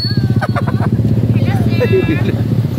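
A motorcycle engine putters loudly nearby with a rapid, pulsing idle while people talk over it, at a landslide area during a truck rescue.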